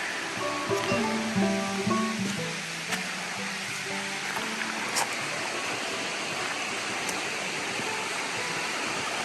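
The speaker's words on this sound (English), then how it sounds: "And got this little creek down here." A small creek flows past a campsite, producing an even, continuous watery rush that stays steady throughout, with a few faint tones early on.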